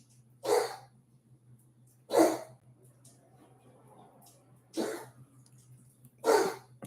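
A dog makes four hoarse, coughing hacks spaced a second or two apart, close by, with quiet pauses between them and a low hum underneath.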